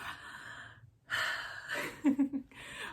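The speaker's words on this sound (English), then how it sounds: "you say deep breath," A person takes a deep breath, with an audible inhale and exhale in short bursts between quiet pauses, close and soft.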